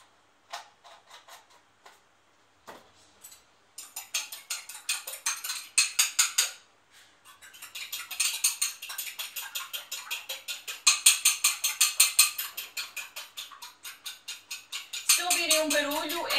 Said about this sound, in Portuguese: Se ouvirem um barulho, é a minha máquina de lavar a louça que está a trabalhar.